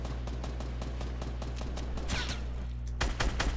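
Rapid gunfire in Fortnite, a dense run of sharp repeated shots over a steady low hum with no talking, getting a little louder near the end.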